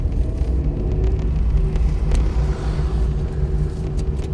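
Car engine idling low and rumbling steadily as the clutch is released with gentle throttle to pull away, heard from inside the cabin with no clear revving.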